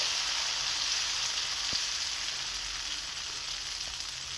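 Onion pesarattu frying on a hot pan, giving a steady, even hiss of sizzling batter throughout with one faint tap partway; close, continuous and without talk.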